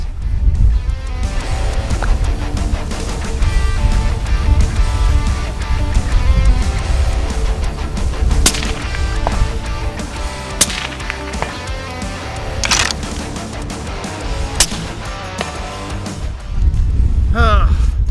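A quiet B&T .308 rifle fires four sharp, fairly muted shots at irregular intervals over a steady outdoor background rumble.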